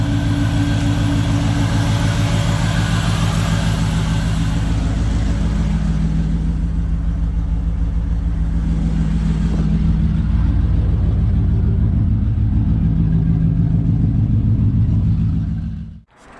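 LS1-swapped Nissan Patrol runs at a steady, loud idle with a deep continuous hum and constant cooling-fan whoosh, close by and unbroken, cutting off abruptly at the very end.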